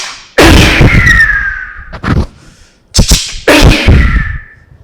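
A man vocally imitates gunshot bullet sounds: two loud, sharp bursts with whizzing, ricochet-like falling tails, separated by short clicks, close and alone.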